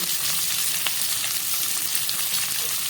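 Chopped vegetables for a Malabar spinach dish fry in a pan with a steady, even sizzle close by. A few light pops come through, and no one speaks.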